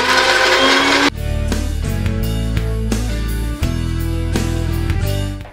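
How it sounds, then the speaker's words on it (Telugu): Mixer grinder blitzing a thick pizza sauce mixture into a fine paste with no water added, a loud continuous whirring motor hum with short pauses and restarts as the jar is pulsed. "దాన్ని ఒకసారి మనం ఫైన్ పేస్ట్లా గ్రైండ్ చేసుకుందాం"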